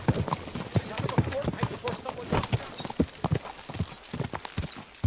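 Quick clip-clop of horse hooves beats close and rhythmically, partly under a speaking voice that talks over much of the short stretch.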